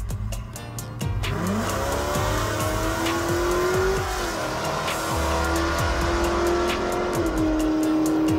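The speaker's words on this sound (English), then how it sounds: "the car's new owner wanted to see what it would run in the quarter mile" A 1969 Hellcat wagon show car launches down a quarter-mile drag strip, its engine rising in pitch through the gears with brief dips at each shift, loud and close.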